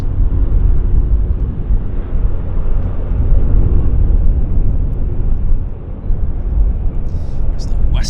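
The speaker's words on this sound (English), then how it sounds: "We have a little FedEx Caravan getting airborne" A FedEx Cessna Caravan takes off at Vancouver airport, its engine a steady, fairly loud low drone with broad rumble throughout, a few faint chirps near the end.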